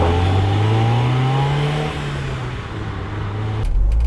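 A Honda Prelude VTEC engine revs hard under acceleration, its loud rising engine note climbing steadily, then dropping briefly before building again near the end; no talk over it.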